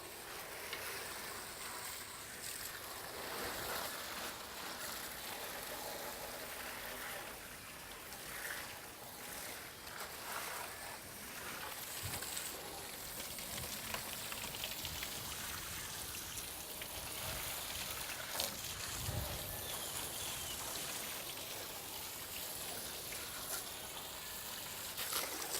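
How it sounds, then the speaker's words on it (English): Garden hose water spraying onto the coil of an air conditioning unit during routine maintenance, a steady broadband hiss and splatter running the whole time with no talk. "when you wash it down with the hose"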